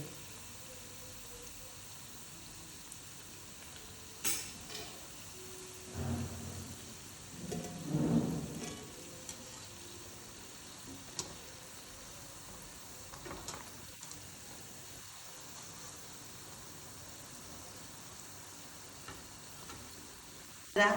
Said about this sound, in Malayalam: റോള് റെഡിയായതാണ്, പൊരിഞ്ഞ് വന്നിട്ടുണ്ട്.